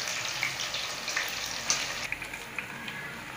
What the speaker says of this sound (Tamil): எல்லா கத்திரிக்காயும் இந்த மாதிரியே பொரிச்சு எடுத்துக்கலாம்